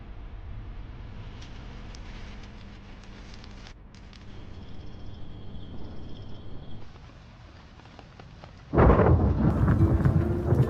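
A thunderstorm with heavy rain rumbles steadily through a night scene in a period drama. The low roar grows louder near the end into a loud surge, with no voices.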